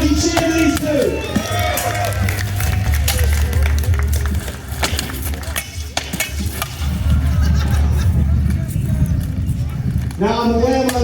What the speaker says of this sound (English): let's get a mighty cheer for these two